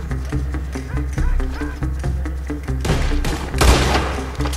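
Gunfire in the Red Dead Redemption 2 video game, several sharp shots and a dense burst of firing over a rhythmic horse-hoof clatter and low music bed, with a voice speaking over it.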